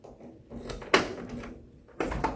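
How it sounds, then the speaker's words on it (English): Key turning in the door lock of a 1972 Chevrolet Nova, heard as a sharp metallic clack followed by a second click a moment later, close up and alone. "And now I'll lock it with the key."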